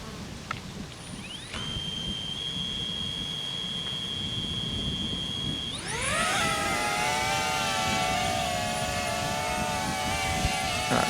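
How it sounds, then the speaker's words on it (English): A DJI Avata 2 FPV drone spools up its motors and flies outdoors in wind, a steady high whine that starts thin and climbs into a loud layered buzz of rising and falling tones, heard close and without voices. "Let's start the motors."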